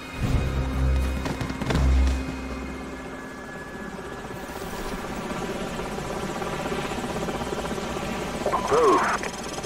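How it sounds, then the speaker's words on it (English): Helicopter rotors chop steadily overhead in Call of Duty 4: Modern Warfare, a loud continuous drone with a few heavy thumps near the start and muffled voices underneath. "Enemy helicopters."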